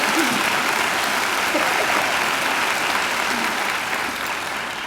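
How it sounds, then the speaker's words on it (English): A graduation ceremony audience gives sustained, steady applause for a singer, a dense continuous clatter of many hands filling the hall at even loudness throughout. "I think Angela deserves another great round of applause."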